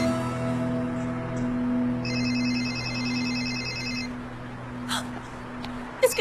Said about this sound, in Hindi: एक सेकंड, किसी का फोन आ रहा है।